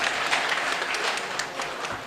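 Audience applause at a Tamil speech event, sustained dense clapping from a crowd, steady and fairly loud throughout with no break.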